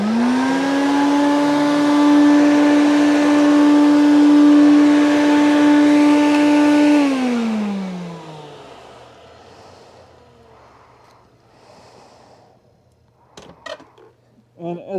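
A Quantum X vacuum cleaner under repair runs with a loud steady motor whine for several seconds, then the pitch drops as it spins down, leaving faint clicks and handling noises.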